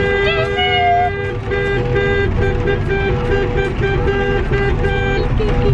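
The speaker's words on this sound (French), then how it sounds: "C'est quoi le petit klaxon là?" A small car horn honks outdoors at a rainy wedding: a brief, thin tonal beep stands out over a steady wash of rain and road noise.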